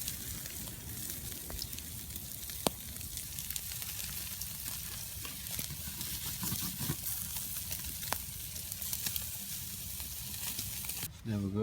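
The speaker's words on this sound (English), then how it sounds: "Got the fire going for a bit now. I've got the bacon on." Bacon sizzles and spits in a pan over a campfire, a steady crackling hiss with occasional sharp pops, continuous and close for the whole stretch before a brief clatter at the end.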